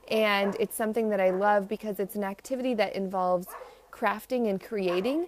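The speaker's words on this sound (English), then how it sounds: "So again, sorry about the dogs." Dogs bark outside, loud repeated yips and barks with whimpering tones running through the whole stretch, mixed in with someone talking.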